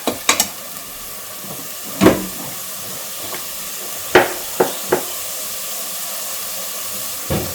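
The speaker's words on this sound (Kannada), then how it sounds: "ಸ್ವಲ್ಪ ಫ್ರೈ ಆಗ್ತೈತಿ." Chickpeas frying in a pan for a home-style Karnataka chickpea dish, with a steady faint sizzle and hiss under a handful of sharp clinks and stirring knocks spread apart, close by and with no talk.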